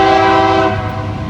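Freight rock train hauled by clean locomotives sounds its horn in a loud, sustained chord for about half the moment, then fades into a steady close rumble of rolling railcars.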